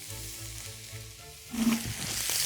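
A T-bone steak sizzles in a pan inside a Roccbox oven, with a steady crackle of rendering fat that swells into a louder, brighter hiss partway through, close and without talk.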